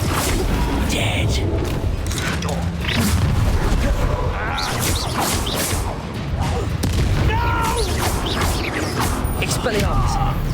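Explosive Confringo spell blasts from the game Hogwarts Legacy boom and crash amid a loud, dense battle din, with voices talking over the fighting.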